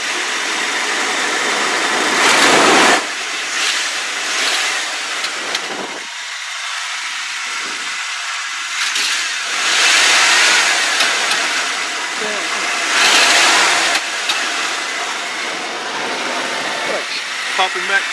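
A truck engine running smoothly after an exhaust leak repair, a steady idle broken by several loud revs spread through the clip, with bursts of talk in between.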